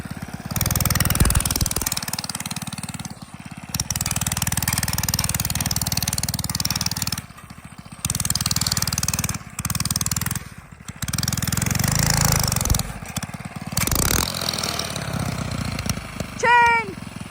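Small mini bike engine running outdoors in snow, a loud continuous buzzing drone that revs and cuts out several times, with short quiet gaps between bursts.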